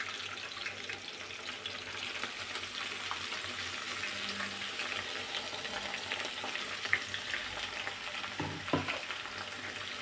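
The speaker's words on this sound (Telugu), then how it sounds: "ఇవన్నీ బాగా ఫ్రై కావాలి మంచిగా." Fenugreek leaves, coriander and tomato chutney ingredients fry in a pan with a faint, steady hiss and sizzle, with a couple of soft utensil knocks near the end.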